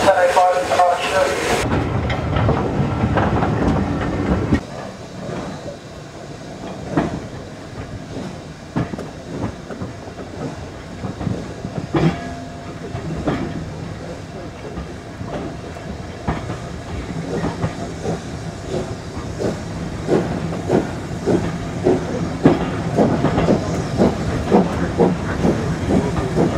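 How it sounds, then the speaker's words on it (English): A steam train rumbles and hisses as it rolls into a station, with rhythmic clicking of wheels on rails growing steadier, after a brief loud burst at the start. "Please stand back from the edge of the platform as the train enters the station"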